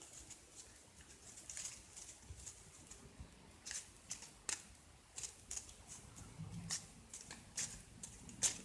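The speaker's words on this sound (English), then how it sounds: "Alright, now we get to shuffle our cards." Magic: The Gathering cards from a Kaladesh deckbuilder's kit being shuffled by hand at a table, quiet irregular riffles and snaps in short bursts, close and faint.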